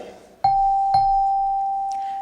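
Two bell strikes from an ambulance station alarm signal a call, each a sharp clang followed by a long, steady ringing tone that sustains and slowly fades, heard close and alone.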